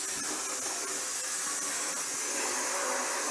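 A blast cabinet's vacuum suction runs with a loud, steady airy hiss and whoosh, with faint clicks and rattles underneath.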